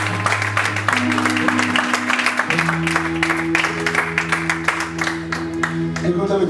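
A church congregation claps and cheers for God during a night of miracles service, steady applause beneath loud music with a sustained keyboard and a voice over the top.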